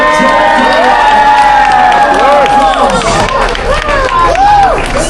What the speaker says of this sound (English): Oh, round of applause.